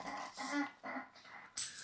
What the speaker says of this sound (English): the dogs are starting to get uppity back there